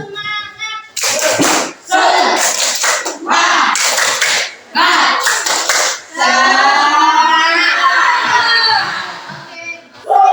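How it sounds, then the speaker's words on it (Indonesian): Children in a classroom perform the rhythmic 'tepuk semangat' clapping chant, bursts of loud group clapping alternating with shouted chanting voices, repeated several times close by. "Tepuk semangat."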